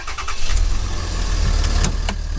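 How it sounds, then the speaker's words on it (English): A truck engine cranks briefly and catches, then settles into a steady idle close by; the truck has an electric brake controller. No one speaks. "You can hear it started right up."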